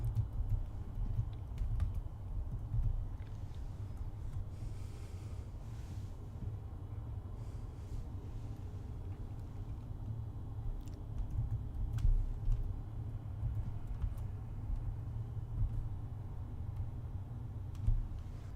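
A password is typed on a computer keyboard: a long run of faint, soft key taps at an irregular pace, under a steady low background hum.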